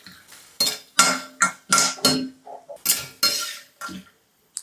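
Fried nutmeg, asafoetida and turmeric root stirred in a pan with a metal utensil, making a series of sharp, close clanks and scrapes in an uneven rhythm, about ten strokes, with no talking.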